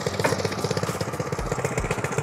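An FTL cultivator engine, started by semi-recoil starter, runs steadily at a close, loud idle with a chugging rhythm and no voices.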